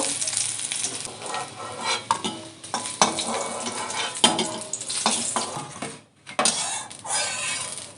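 Eggs fry hard in hot oil in a pan for Dhaba-style egg curry, a loud continuous sizzle broken by spoon stirring and metal clinks, with a brief lull near the end before the spitting resumes.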